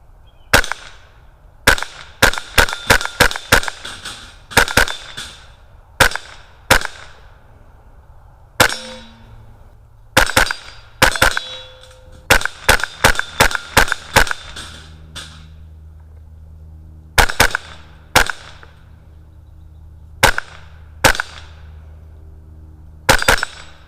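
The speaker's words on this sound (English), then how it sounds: "we'll shoot some steel real quick on 2 power and see just how well this works up close" Rapid .22LR shots from a lightweight Kidd 10/22 pattern rifle striking steel targets at close range, loud crisp cracks, each paired with a bright metallic ping, fired in quick clusters and singles with short pauses between strings.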